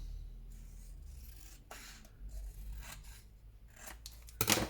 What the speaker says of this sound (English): what I'm going to do is cut this side. Like that. And cut this one.